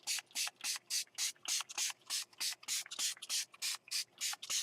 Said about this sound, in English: And I'm just going ahead and spray the whole thing.